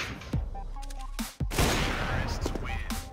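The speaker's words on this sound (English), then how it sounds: "CT is just shooting at the wall." Gunfire in Counter-Strike: Global Offensive, with a counter-terrorist spraying at a wall: bursts of close, loud shots crack in rapid clusters over a continuous game backdrop, with a brief drop into quiet partway through.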